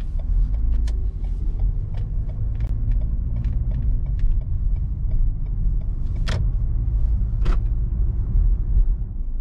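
A Lexus RX300 on the road, heard from the cabin as a steady low rumble of engine and tyres, with faint scattered clicks and a couple of sharper knocks.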